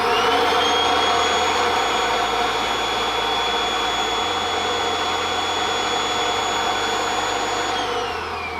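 Kirby vacuum cleaner running with its stretchable hose set at about three feet, a loud, steady whining roar with a high-pitched tone that holds evenly throughout, then eases slightly at the end.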